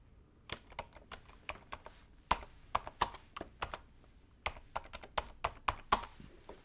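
Rapid, irregular keystrokes on a computer keyboard clatter close by in uneven bursts and short pauses, with no talking over them.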